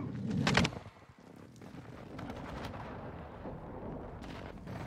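Enemy precision airstrike explosions in a video game: one sharp, heavy blast near the start, followed by a lower rumbling roll of distant impacts.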